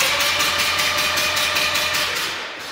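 Mazda RX-7 rotary engine, warm, cranked by the starter during a compression test: a steady, loud, evenly pulsing whir with regular rhythmic beats, holding throughout and easing off slightly at the end.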